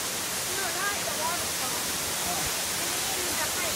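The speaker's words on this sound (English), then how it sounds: "Big waterfall." Waterfall along the Elwha River Trail, a steady, broad rushing roar filling the whole span with no break, with voices faintly underneath.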